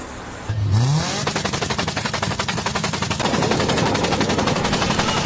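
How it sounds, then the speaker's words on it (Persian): A car with a torn factory exhaust roars loudly, rising from an engine rev into a rapid, harsh, machine-gun-like stream of popping pulses that continues close and steady, with no talking. "صدای ناهنجار اگزوز. فابریکه بخدا پاره شده."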